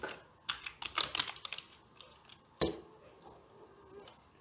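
Quiet computer keyboard typing while a button caption is renamed in Excel: a quick cluster of light key clicks, then one sharper tap, with faint room hiss afterward.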